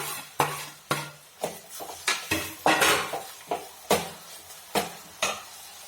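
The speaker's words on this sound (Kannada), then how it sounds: "ಟೊಮೊಟೊ ಹಾಕ್ತಾಯಿದ್ದೀನಿ." Tomatoes with onions frying in a pan for vegetable fried rice, a steady run of sharp spatula clanks against the metal pan over a light sizzle, close and rhythmic with no talking.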